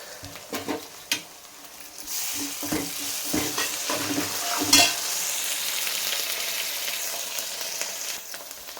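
Ginger garlic paste fries with browned onion pieces for a rohu fish-head curry, giving a steady loud sizzle with scraping stirs and spatula knocks throughout, and no talking.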